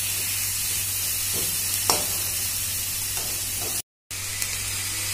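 Capsicum and corn frying over high flame in a pan for a crispy corn starter, giving a steady close sizzle with a few light stirring clinks, briefly cut to silence near the end.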